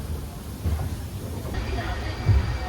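A train departing Nagercoil station in India rumbles along with a steady low hiss and occasional heavier clunks, heard from inside the carriage with faint voices mixed in.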